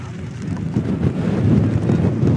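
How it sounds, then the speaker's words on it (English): Wind buffets the microphone at a racetrack in a continuous low rumble, rising slightly in strength, loud and close with no voices. "It is windy."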